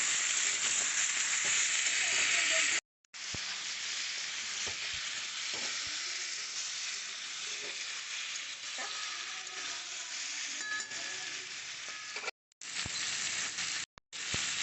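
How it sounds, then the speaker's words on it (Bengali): Pumpkin and potato pieces fry in a pan with a little salt, making a dense, steady sizzle with occasional stirring scrapes, close up. The sound cuts out briefly a few times. "দিয়ে ভালো করে একটুখানি লাল করে ভেজে নেবো"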